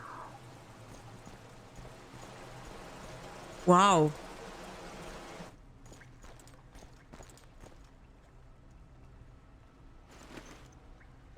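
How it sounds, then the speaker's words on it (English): Flowing water in a fantasy video game: a faint, steady rushing stream that runs for several seconds and then drops away, with a short spoken exclamation and scattered game sounds. "I hear water."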